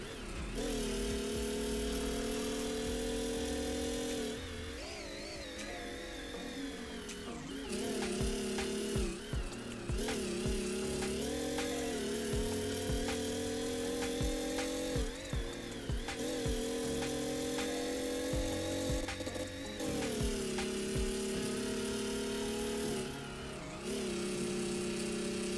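A virtual super car engine in the GearBlocks building game revs after a downshift, a steady high mechanical drone with repeated dips and surges as the throttle lifts and returns, loud and continuous without talk.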